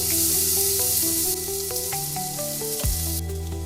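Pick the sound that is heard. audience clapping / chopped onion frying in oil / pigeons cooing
chopped onion frying in oil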